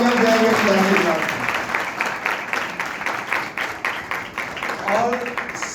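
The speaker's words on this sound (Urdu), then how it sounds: "زوردار تالیاں دیں گے خدا کے ساتھ۔" A church congregation at a Sunday service applauds loudly and steadily, dense clapping that thins slightly before swelling again, with voices calling out over it.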